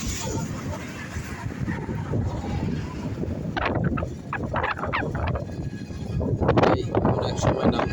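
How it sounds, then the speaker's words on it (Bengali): Strong, dusty wind on open ground along the 300 Feet road at Rupganj buffets the microphone in a steady roaring rumble, with harder gusts toward the end. "প্রচুর বাতাস, ওই জন্য প্রচুর ধুলা বাতাস"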